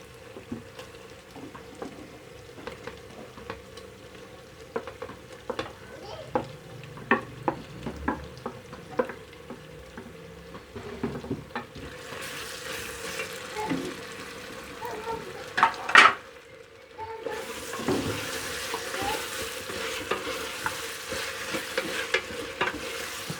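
Mutton masala with tomatoes fries in a pan while being stirred, a low steady sizzle with regular spoon clinks and scrapes, then a brighter, louder hiss in the later half; no voices.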